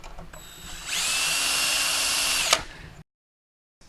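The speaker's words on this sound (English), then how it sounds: "And use a 3/16 drill bit" A power drill fitted with a 3/16 drill bit bores a hole in aircraft material, spinning up to a steady high whine for about two seconds, then a sharp snap as it breaks through and stops, followed by silence.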